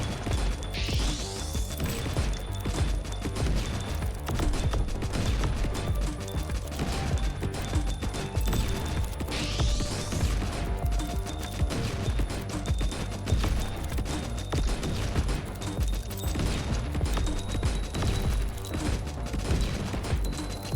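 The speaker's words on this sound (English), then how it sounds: "these are piercing explosive shots." Explosive shotgun fire from a video game, a dense, loud barrage of blasts, crashes and mechanical clatter running continuously, with rising whooshes passing through twice.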